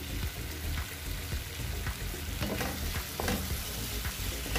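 Fried paneer being stirred into a sizzling chilli paneer curry with soy sauce and chilli sauce, with spoon scrapes and constant frying crackle close by.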